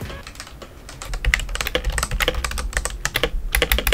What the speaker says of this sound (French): la touche espace fait un bruit différent des autres touches